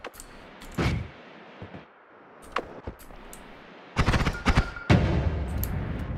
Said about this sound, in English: So many explosions at once.